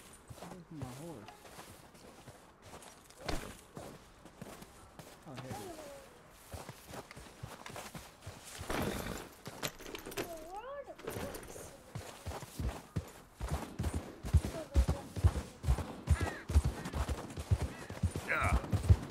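Horse hooves clip-clopping on the ground in the video game Red Dead Redemption 2, irregular thuds that grow louder and denser toward the end, heard under speech and other game sounds.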